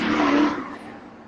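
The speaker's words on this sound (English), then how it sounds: "as a race car drives by" Race car passing by, a loud whooshing engine roar that peaks early, then fades quickly into the distance over about a second.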